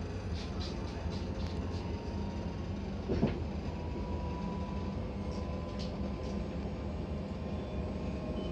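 Inside a new Impuls regional train travelling onward from Katowice, a quiet, steady low rumble of the ride fills the cabin, with a brief clunk partway through and faint distant sounds.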